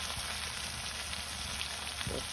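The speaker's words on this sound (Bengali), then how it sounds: "মাছ ভাজি যে তেলগুলো রয়েছে ওগুলোর উপরে হচ্ছে যে আলুগুলো দিয়ে দিচ্ছি" Potatoes frying in oil left over from frying fish in a village kitchen, a steady broadband sizzle that holds evenly throughout with no talk over it.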